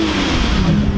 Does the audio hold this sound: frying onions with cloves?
no